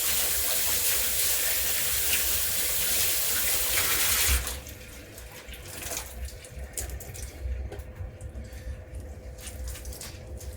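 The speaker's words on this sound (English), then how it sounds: "I'm going to take my cilantro, which I have washed, but maybe not well enough, so I'm going to wash it again." Tap water running into a kitchen sink while cilantro is washed, a steady loud splashing stream that drops to a softer patter with intermittent rustling and drips, no voices.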